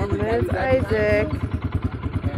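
A small motorbike engine putters at low revs in a steady pulsing rhythm close by, with a person talking over it for the first half.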